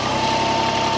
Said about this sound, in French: Au même moment, son mari René retrouve son tracteur bleu pour déneiger l'entrée.